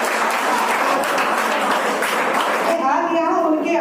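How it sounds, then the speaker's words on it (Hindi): Loud, dense applause from an audience at a one-day national history seminar at a college, a steady wash of clapping, with a voice rising over it toward the end. "ताली बजती रहनी चाहिए।"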